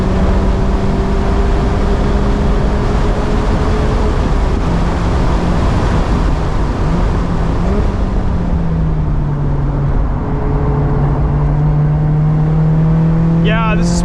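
A 2024 Mazda MX-5 Miata ND3 Grand Touring driven hard on a race track, heard from inside with a loud continuous engine drone whose pitch climbs and drops through gear changes, wind and road roar throughout.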